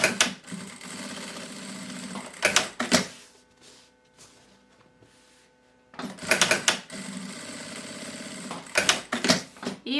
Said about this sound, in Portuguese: Costurei, agora eu vou fechar as 2 laterais.